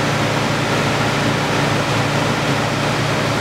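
Air compressor on a range fire fighting vehicle unloading, a loud continuous broadband hiss of rushing air with a low rumble underneath, steady throughout and close.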